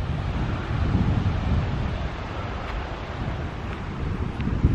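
Steady wind and surf on the open sandy beach at Jurmala, Latvia, a continuous broadband roar with heavy wind buffeting on the microphone and no voices.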